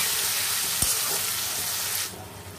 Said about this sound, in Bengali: দিয়ে দিলাম এক চামচের চেয়ে একটু কম আদা রসুন বাটা